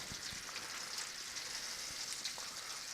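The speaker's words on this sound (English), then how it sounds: "I'm just cooking, you know, a small amount of shrimp. You don't need a whole lot of oil." A small batch of shrimp frying in a little oil gives a faint, steady crackling sizzle with scattered pops, alone with no talking.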